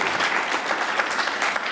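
Studio audience applause welcoming a guest, a dense steady burst of clapping heard close and alone, without any voices.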